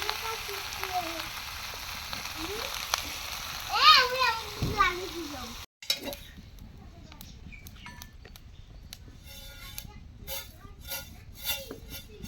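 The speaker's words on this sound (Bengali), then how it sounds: "জিরা ভেজে নেবে" Cumin seeds frying in oil in a kadai on a stove, sizzling and crackling close by after a stretch of voices, including a child's, with the frying continuing alone in the second half.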